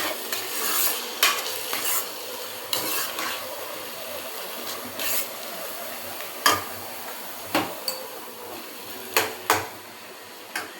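Prawns, washed and coated in turmeric, stir-frying in a pan with softened onions. Steady sizzle under repeated sharp clicks and scrapes of a spatula against the metal, the spatula hits coming in irregular bursts.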